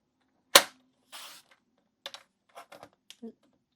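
Cardstock paper is cut with a paper trimmer while making a card. A sharp snap comes first, followed by a brief sliding slice and several small clicks and taps, all close and isolated.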